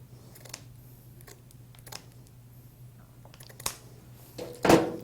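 Scissors make a few sparse snips and clicks while trimming material for a DIY vase makeover, quiet at first, then a sharper, louder cut near the end, with no talk.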